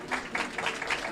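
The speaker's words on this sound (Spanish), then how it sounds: "yo también comparto los aplausos aquí" An audience applauds in a short, steady burst of clapping, fairly faint and heard from a distance, with no voices over it.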